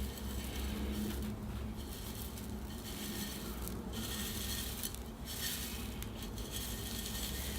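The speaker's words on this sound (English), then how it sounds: "And I'll start adding soil" Bonsai soil poured and scraped into a pot while repotting a trident maple, a steady, close gritty rustle and patter that runs throughout with small clinks, no talking.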